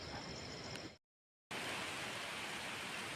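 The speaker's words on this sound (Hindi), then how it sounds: "पहाड़ों में फिर से एक बार बारिश लग चुकी है" Rain falling in the mountains, a dense, steady hiss of drops with no distinct individual hits, moderately soft, cut by a half-second gap of silence before resuming at the same level.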